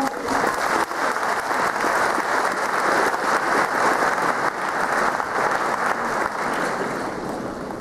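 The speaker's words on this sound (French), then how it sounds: "Mes sœurs, applaudissez-vous d'abord" Sustained applause from a large church congregation at a Kimbanguist Church centenary celebration, steady and loud throughout, with many hands clapping together.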